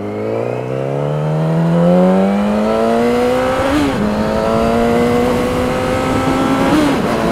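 A 600cc sportbike engine revs hard and climbs steadily in pitch, its loud buzzing exhaust note rising, dipping briefly at gear changes and climbing again, close and continuous.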